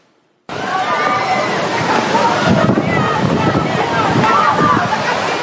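Flood water of the Quitandinha river surges during a storm in Petrópolis, a loud steady rushing and sloshing roar with wind buffeting the microphone, starting abruptly after a brief silence and running without a break.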